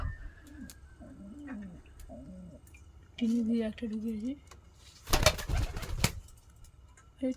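Pet pigeons coo in soft, rolling phrases close by, followed by a burst of wing flapping or rustling, while a person talks over part of it.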